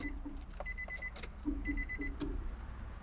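A Nissan Xterra's ignition is switched to the on position, setting off short repeated bursts of electronic warning chimes with a few soft clicks, heard close up inside the vehicle.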